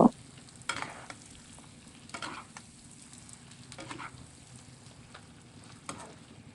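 Pork coated in turmeric and cumin paste sizzles gently in a pan. A spoon stirs it with a few soft scraping strokes, heard close, faint and without talk.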